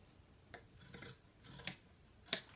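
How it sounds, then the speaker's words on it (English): Scissors cutting upholstery fabric at an angle from a post toward a chair corner on a Parsons chair, with a few quiet, separate snips and rasping cuts, close and faint, with no talk. "What we want to do is cut on an angle from the outside of this post to the inside of this corner here."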